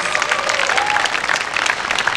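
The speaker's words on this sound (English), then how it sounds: "Let's give all these folks a round of applause." Steady, dense audience clapping fills the space at a groundbreaking ceremony for the Japantown Peace Plaza renovation in San Francisco, with a faint tonal hum running beneath the crowd.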